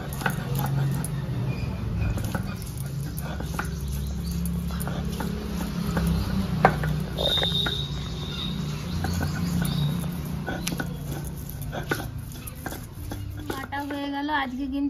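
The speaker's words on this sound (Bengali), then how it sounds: "আদা রসুনটা প্রথমে বেটে নিই বন্ধুরা" Ginger and garlic ground into a paste by hand in a village kitchen, a steady low rubbing scrape with occasional knocks, while birds chirp in the background.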